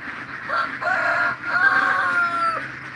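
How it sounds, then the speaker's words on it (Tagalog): Chickens and roosters calling at a rural Philippine home, a steady run of clucks and crowing-like calls lasting the whole stretch, fairly close and clear with no talk over them. "Kaya maraming manok."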